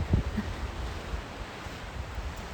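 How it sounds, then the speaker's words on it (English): Ocean waves break and wash against rocks on a shore, heard as a continuous soft rushing surf with wind noise over the microphone and a brief low thump near the start. "they're letting the waves crash against them. It sounds beautiful."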